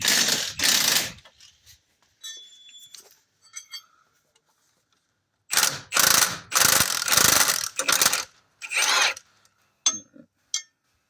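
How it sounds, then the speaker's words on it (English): A ratchet wrench loosens bolts on a Chrysler PT Cruiser strut assembly with close, loud bursts of rapid clicking separated by pauses. Quieter metallic handling noises fill the gaps. "take the bolts that are loose. And you always want to make sure that when you jack up your vehicle, get your wrench ready"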